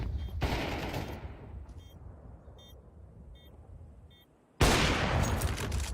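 Rifle fire punches through a thin wall in a Counter-Strike match, loud bursts at the start and a heavy volley near the end, with faint clicks and quiet game ambience between.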